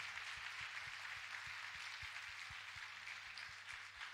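Congregational applause for the Lord at a church service led by an apostle, a steady, fairly faint wash of many hands clapping alongside a rhythmic low thump like music, continuing without pause throughout.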